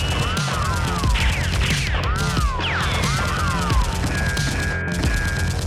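Toy Nerf guns fire in a continuous volley during a staged gang-versus-SWAT fight, the dense popping clatter loud and unbroken over a constant backdrop of music with sweeping tones.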